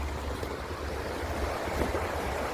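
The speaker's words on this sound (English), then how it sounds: "here's the new brook. This is Deer Brook." Deer Brook, a stream in the Adirondacks, rushes in a steady broadband wash, its water noise constant and fairly close with no break or other sounds over it.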